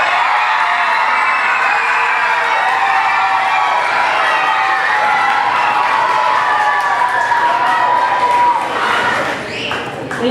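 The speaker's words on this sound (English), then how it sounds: "everyone stand up with me, and we'll cheer each other on" Fifth graders at a school graduation cheer, whoop and shout together as a crowd, loud and continuous for about ten seconds before easing slightly at the end.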